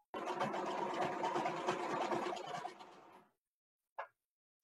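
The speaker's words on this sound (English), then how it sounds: "stitch this right to the top of my ottoman cover" Sewing machine stitching bedspread fabric onto the top of an ottoman cover, a steady close whirring run for about three seconds that slows and stops, followed by one short mechanical blip.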